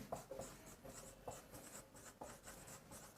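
Chalk or pen strokes scratch across a board in quick irregular bursts, close and fairly quiet, while a molecular orbital theory chemistry lesson is written out, with no voice over the strokes.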